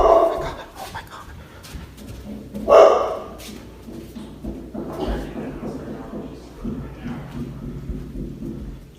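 Two dogs bark inside a house, loud sharp yaps that burst out with a strong peak early on and then sporadic bursts, mixed with panting and muffled background noise and some raised voices.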